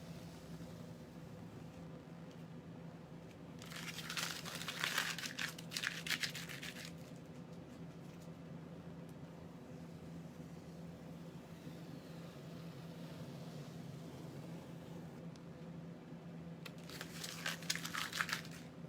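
Painter's tape peeled slowly off a freshly painted striped wall, giving two separate bursts of crinkly tearing and rustling a few seconds long each, fairly close against a quiet room hum.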